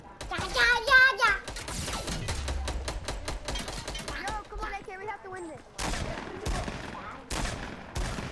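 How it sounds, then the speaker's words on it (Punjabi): Gunfire rings out in the video game Fortnite during a team match, with rapid bursts of shots and sharp single cracks spread through the clip, alongside game sounds and voices talking. "ਇਹਦੇ ਵਿੱਚ ਫਾਇਰ ਕਰਨਾ ਸ਼ੁਰੂ ਕਰ ਦੇ ਤਿੰਨੇ ਫਾਇਰ ਕਰ ਦੇ"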